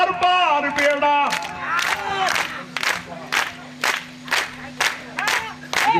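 A crowd at a devotional gathering for the goddess Sikotar Maa claps in a steady, even rhythm, with sharp, loud, evenly spaced claps. Sung voices are heard at the start and then under the clapping.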